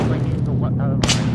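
A single heavy gun blast booms in a World War II video game battle near the end, after a low rumbling stretch with voices talking.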